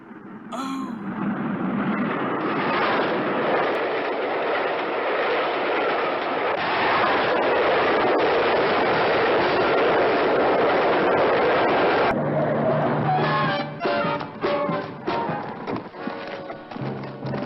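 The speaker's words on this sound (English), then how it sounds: "Is that the up train? No, Mr. Crawford. That'll be the express." A train rumbles past in a long, continuous roar that holds steady, then gives way to rhythmic clatter and thumps as it moves off.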